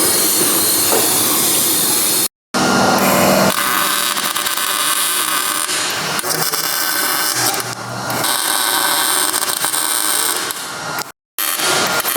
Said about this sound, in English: we're going to clean everything that we need to weld with the starting fluid